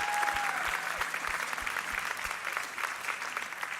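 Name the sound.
audience round of applause for JR and Cassie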